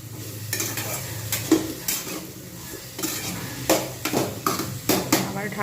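Cauliflower and potato with salt and turmeric being fried and stirred in a pan, loud metal spatula clanks and scrapes against the pot over a steady sizzle, close by and irregular.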